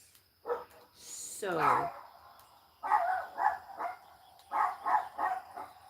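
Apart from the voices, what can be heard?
dogs barking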